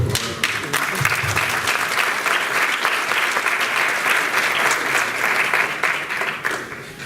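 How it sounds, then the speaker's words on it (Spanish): Steady, loud audience applause filling a seminar hall in Lima after a panel on territorial planning and urban development is introduced, sustained clapping from a full crowd with no voices on top. "Un fuerte aplauso, por favor."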